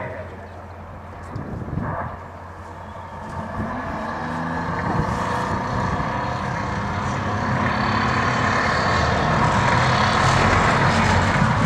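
An M548 tracked cargo carrier driving, with a loud engine rumble and clanking track noise that builds as it draws nearer, while someone talks over it.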